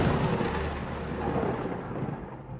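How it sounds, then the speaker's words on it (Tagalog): A heavy rain and wind storm with thunder rolls on as one continuous dense roar, with a deep rumble early on that fades slightly toward the end. "ang bigat ng ulan, ang lakas ng hangin at ang dilim ng paligid"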